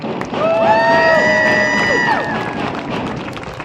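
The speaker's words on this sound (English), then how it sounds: "how about a round of applause for number 69" Crowd at a high school football game between Sheridan and Natrona in Wyoming cheers and claps, with whoops and sustained shouting voices swelling loudly early and then easing slightly.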